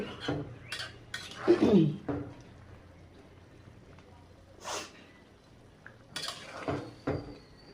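Cauliflower being stir-fried with fish in a pot after the lid is loosened. Metal spoon scrapes and clanks come in short bursts, with a louder clatter near the start and quieter knocks later.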